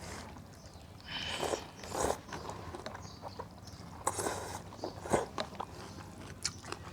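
Lao rice noodle soup (khao piak) eaten at breakfast, with close, intermittent slurping, biting and chewing noises and light clinks scattered through the moment, no speech.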